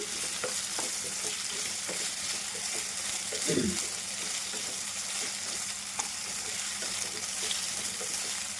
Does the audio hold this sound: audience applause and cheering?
no